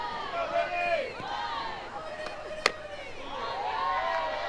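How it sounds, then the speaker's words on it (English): A college softball crowd at a Florida vs Alabama game murmurs and stirs in the background after a ball-two call, with a sharp crack partway through, under continuous play-by-play commentary. "you can hear this crowd did not like that ball 2 call"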